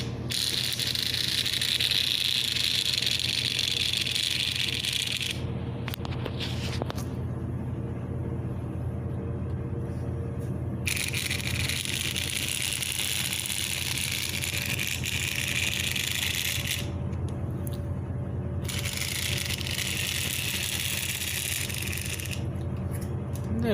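Model train engine running on a track, a low steady rumble with a continuous whirring hum throughout, fairly quiet and without talk.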